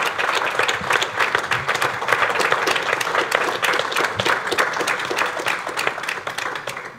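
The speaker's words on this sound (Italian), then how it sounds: "Facciamo un applauso a Giovanni." An audience at an Italian café talk in Verbania applauds, a dense, even burst of many hands clapping that lasts several seconds and then begins to thin.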